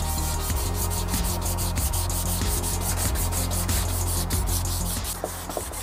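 A car taillight lens is wet- or hand-sanded in fast horizontal strokes, a continuous close scratching rub with a quick regular rhythm, loud and steady throughout.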